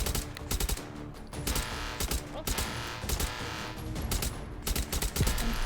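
Full-auto AK rifle fire in a shooter game, rapid clustered bursts of sharp shots crackling close and loud, with short pauses between strings.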